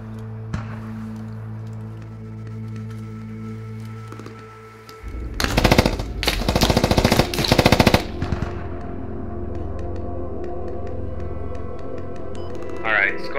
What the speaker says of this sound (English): The AR shooting, that's where they're at.